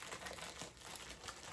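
Packing paper crinkles and rustles steadily throughout as home decor is unwrapped, a continuous close papery crackle with no voices.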